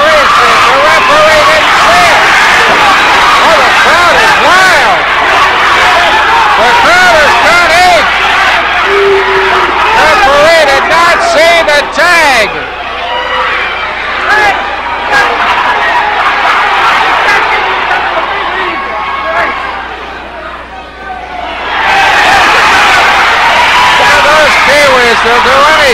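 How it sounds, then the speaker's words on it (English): A wrestling arena crowd roars and cheers wildly during a tag-team match, a loud, dense wall of yelling that drops away briefly in the middle before surging back, with a commentator talking over it. "Oh, the crowd is wild."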